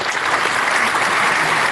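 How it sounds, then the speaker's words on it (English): A lively crowd at a Rich Mix talk show bursts into a dense, loud round of applause, a steady wash of many hands clapping at once with no gaps. "if we do see a round of applause"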